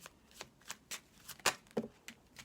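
Tarot cards are shuffled by hand in quick riffling bursts, with a few soft slaps as loose cards drop out of the deck, close and clear.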